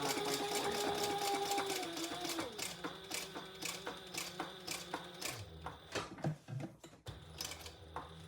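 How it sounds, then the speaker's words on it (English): A sewing machine stitches around the outside edge of a fabric shoulder bag, its motor whirring with rapid rhythmic needle ticks that change pitch as it slows and restarts, close by. "I'm going to sew around the outside"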